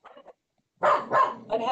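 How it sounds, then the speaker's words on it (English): A dog barks loudly and close, a short yelp followed after a pause by three strained, whining barks in quick succession, unhappy in tone, heard during an indoor meeting. "Unhappy dog there."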